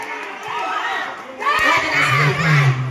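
Crowd cheering and shouting at a local basketball game in Calinog, Iloilo, loud overlapping voices rising in a second surge, with close talk mixed in.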